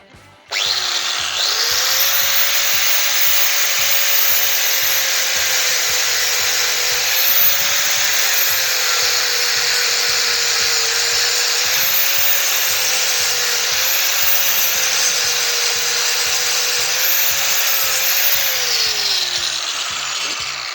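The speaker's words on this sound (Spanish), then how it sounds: "con el disco de 1000 hojas vamos a ir quitando estos remaches de aquí" A flap disc on a grinder sands rivets off the engine plate of a Vespa TX200, a loud, sustained high-pitched whine with gritty abrasive rasp that starts abruptly and runs nearly unbroken, pitch dipping slightly under load, with no talk.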